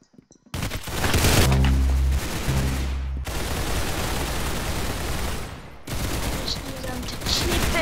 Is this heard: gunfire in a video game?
yes